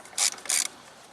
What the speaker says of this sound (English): loosen these two bolts here that hold the bottom half of the airbox on